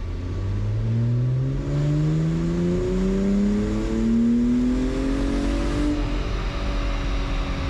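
Second-generation Honda NSX engine revving in third gear at about 75% accelerator pedal input under load on a dyno, a loud steady climb in pitch over several seconds with rising harmonics, then easing off near the end.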